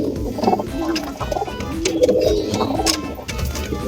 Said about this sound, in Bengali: এই যে আমার চোটাল পায়রা